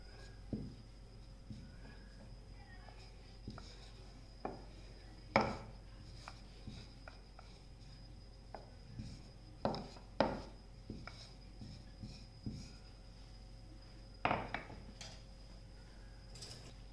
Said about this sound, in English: Roll this into a circle.